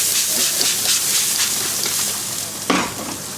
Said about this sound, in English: Another spritz